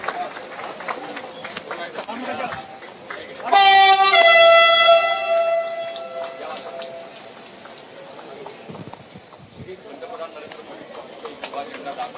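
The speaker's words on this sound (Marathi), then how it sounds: "पहिली मेट्रो या ठिकाणाहून रवाना होताना" Horn sounds loud and clear as the first Pune Metro train departs at an inauguration event, a few sustained tonal blasts over a crowd murmur, then fading back into background chatter and people talking.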